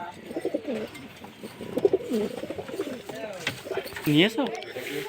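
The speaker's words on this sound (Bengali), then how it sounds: "আরও একটা খুব সুন্দর মেল পায়রা দেখাচ্ছে" Male pigeons coo close by in soft, repeated throaty calls, with a voice murmuring in the background.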